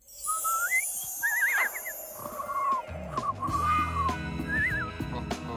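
Loud, warbling whistled notes from a cartoon character in Teen Titans Go! rise and trill over several phrases, with a low rumbling tone underneath joining partway through.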